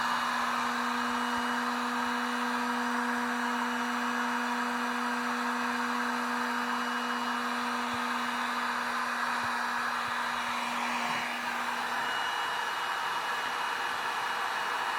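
Continuous whooshing blower hum from a Parkside heat gun cooling down to 50 degrees, holding steady at close range, then cutting off near the end with a slight shift in tone; no talking.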